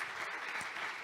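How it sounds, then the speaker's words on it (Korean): Dense, steady clapping from a conference audience thanking a branding director after his talk at a food and restaurant industry outlook event, continuous and close. "허준 브랜딩 디렉터님께 감사의 박수 먼저 보내주시고요"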